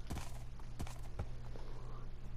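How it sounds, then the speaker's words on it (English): Hooves of a fast horse in Minecraft clop in quick, evenly spaced thuds at a galloping pace, with three sharper strikes standing out over a steady low hum. "This is a fast horse."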